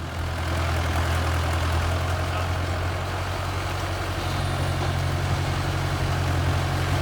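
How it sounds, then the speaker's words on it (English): A new bulldozer's heavy diesel engine rumbles steadily and close while clearing land on a farm, a constant low throb running unbroken from start to finish with no talk. "Grant is driving the bulldozer."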